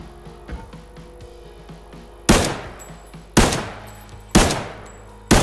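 Gunfire from a new weapon in the video game Arena Breakout, four sharp, loud shots spaced about a second apart, each with a short ringing tail, over a quiet low background.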